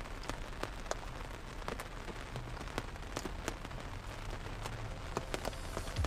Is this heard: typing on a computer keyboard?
no